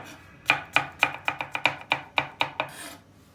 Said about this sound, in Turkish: Uzun uzun doğrayacağız slide şeklinde.